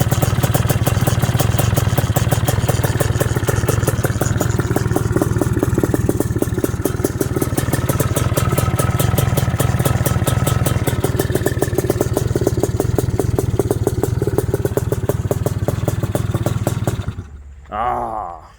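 A rough, smoky-sounding old Yamaha TRI-Z 250 motorcycle engine, long left sitting outside, runs steadily with rapid clattering firing pulses, close and loud, then sputters and cuts out near the end.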